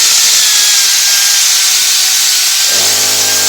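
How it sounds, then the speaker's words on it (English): A wire wheel on a power tool grinds and scrubs loudly against the brake mounting surfaces of a 2018 Honda CR-V, a steady high whir that drops in pitch near the end as the tool slows. "I'm just going to run the wire wheel now on the mounting surfaces here."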